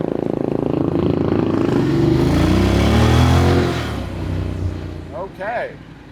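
Honda motorcycle downshifting while riding, the engine rising and falling through gear changes, loud and close, then easing off with a brief whine at the end.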